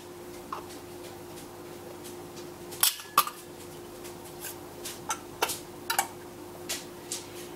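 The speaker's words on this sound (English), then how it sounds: "once you have finished that, you're going to put your lids on." Metal canning lids are set onto filled glass jars of ham and bean soup before pressure canning, giving a few sparse, light metallic clicks and taps over a quiet background.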